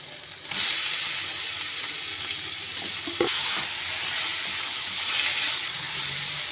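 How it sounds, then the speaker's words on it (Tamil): Chicken pieces for a spicy Tamil-style pepper chicken fry sizzle steadily in hot oil, a continuous close frying hiss after a quieter start, with a brief clatter of stirring midway. "இந்த எண்ணெயிலே இந்த சிக்கனை வதக்கி விட்டுக்கோங்க"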